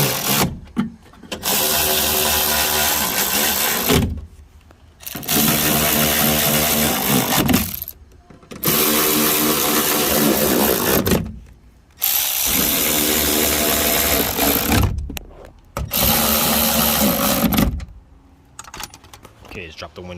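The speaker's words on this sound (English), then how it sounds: "Let's tighten the bolts." A power tool tightens bolts on a Nissan Altima front door in four bursts of buzzing ratchet-like whirring, each lasting a few seconds with short pauses between, close and fairly loud.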